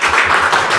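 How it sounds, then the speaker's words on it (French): An audience applauds a presenter at an event on greening and environmental awareness: a short, loud, dense patter of many hands clapping throughout. "Ne m'applaudissez pas sur mon prénom"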